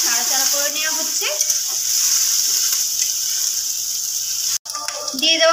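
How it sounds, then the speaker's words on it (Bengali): Whole cumin, onion paste and chopped ginger frying in hot oil in a wok: a steady bright sizzle with occasional scraping stirs, close and continuous, briefly cut near the end. "কড়াইতে তেলের মধ্যে দেওয়া হলো গোটা জিরে ফোড়ন, দিয়ে দেওয়া হলো পেঁয়াজ বাটা আর একটু আদা কুচি"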